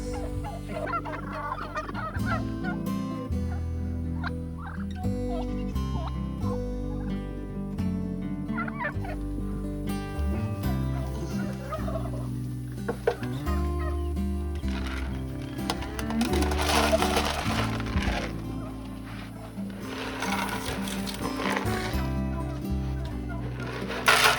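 Turkeys gobble repeatedly alongside clucking chickens at close range, a busy chorus of farm birds under continuous rustling and background music-like tones.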